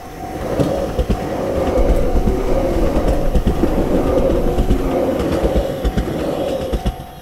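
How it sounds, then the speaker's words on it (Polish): A train passing close by in Sapporo in winter, a loud sustained rumble with rhythmic clickety-clack of wheels over rail joints, alone with no voices. "Ledwo zdarzyłem przejść i znowu pociąg jedzie."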